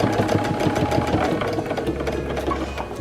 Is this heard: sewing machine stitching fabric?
yes